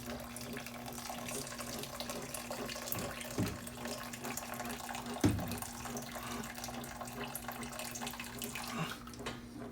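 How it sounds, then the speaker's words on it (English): Soup stock for a Chinese soup being poured from a tilted pot, a steady faint trickle of liquid with a couple of light knocks, heard close in a quiet kitchen with no speech. "I'm going to actually just tilt the pot here."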